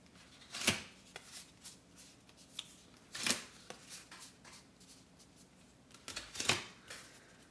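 Tarot cards shuffled by hand in a quiet room, giving three distinct riffling bursts spaced a few seconds apart with soft card handling and faint rustles in between; no talking.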